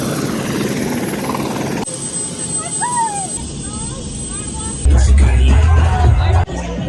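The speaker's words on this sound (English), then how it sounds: "We're gonna go on a helicopter." A helicopter's rotor and engine drone steadily throughout, loud and continuous, with crowd chatter and voices mixed in beneath it.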